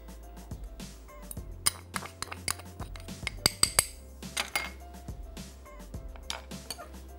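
Dry flour is mixed into dough in a bowl, with repeated clinks and taps of a utensil against the bowl in an uneven rhythm and soft scraping between them.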